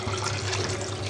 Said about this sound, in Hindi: इस स्टेज में अपना पानी ऐड कर देंगे।